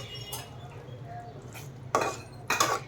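Yogurt being mixed with a little water in a bowl, a spoon clinking and scraping against the dish in a few sharp bursts over a low background hum.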